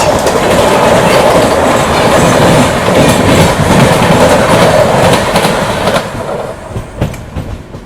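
Anand Vihar–Puri Nandan Kanan Express passing close by, a loud continuous roar with rhythmic clickety-clack of wheels over rail joints, easing slightly near the end.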